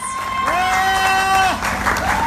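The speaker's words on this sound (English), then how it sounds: "Give her another round of applause." Crowd applause at a public election campaign meeting, with a drawn-out cheering voice rising above the clapping and a general crowd murmur.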